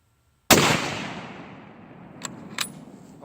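A single sharp, loud rifle shot cracks out and decays in a long outdoor echo, followed by two fainter metallic clicks from the action.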